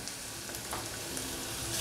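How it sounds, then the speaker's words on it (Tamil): Onions sauté in a pressure cooker for chicken curry, giving a brief steady sizzling hiss with a few soft stirring scrapes, close and moderately quiet, with no voices. "இல்லை. நார்மலாக வதங்கினா போதும்."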